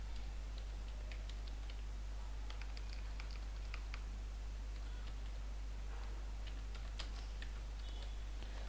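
Keyboard typing while entering text in Photoshop: faint, scattered key clicks in irregular short runs over a steady background hum, with no voices.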